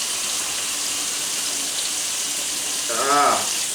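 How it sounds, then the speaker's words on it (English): Tap water runs steadily into a kitchen sink while hands are washed after handling raw pork, a continuous close hiss throughout, with a brief voice near the end. "I'm going to wash my hands here"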